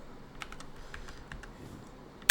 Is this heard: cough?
no